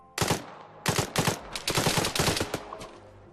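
Automatic gunfire in the military game Arma 3, heard as several short rapid bursts from one weapon, loud and close, with brief pauses between trigger pulls.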